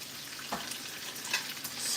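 A thin steak sizzles in a very hot pan, a steady close frying hiss with faint scraping, growing slightly louder toward the end and with no voices.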